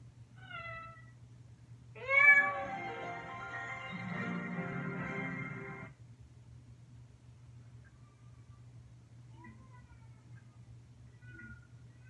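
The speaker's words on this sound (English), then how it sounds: "That's a baby crying outside." A thin, wailing cry rises sharply and holds for several seconds over a steady low hum, then fades to quiet with faint distant chirps.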